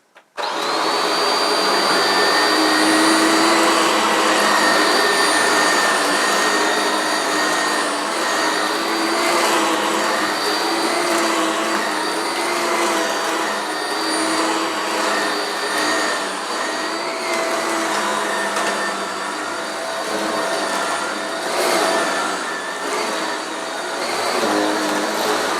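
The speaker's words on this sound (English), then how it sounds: "a bit of unexpected vacuuming" A 1983 Hoover S4254 Freedom Electronic 1000 vacuum cleaner starts up and runs continuously at close range, a loud steady motor whine with a high-pitched tonal edge and rushing airflow throughout.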